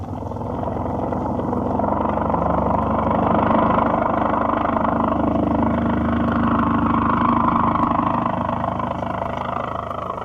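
A propeller airplane engine drones steadily in flight as a radio drama effect, a loud continuous roar with a slight swell midway and no voices over it.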